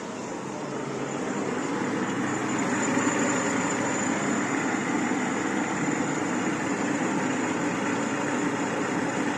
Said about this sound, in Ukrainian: А двигун та працює рівненько